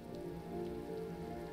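Steady rain falls in the video game Road 96, a dense even patter close by with no voices, a faint tonal hum running beneath it.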